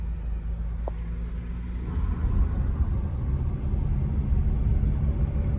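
A car climbs a steep incline on a road through the Englewood Dam MetroPark area near Dayton, its engine and tyre rumble steady, low and continuous, with no voices.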